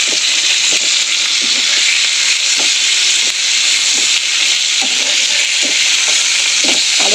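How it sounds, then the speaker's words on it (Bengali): Winter vegetables fry in a nonstick pan with a loud, continuous hiss and sizzle, broken by frequent small ticks and taps as they are turned. "এগুলো একবার ভেজে নিই, দিয়ে আরেকবার ভাজবো। ভালো করে ভাজা হয়ে গেছে"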